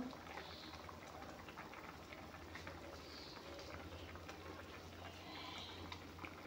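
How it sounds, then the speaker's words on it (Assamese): A pot of fish curry bubbles at a steady, soft boil, with continuous gentle burbling and popping under a low hum. "ধুনীয়াকৈ আঞ্জাখন উতল আহিছে"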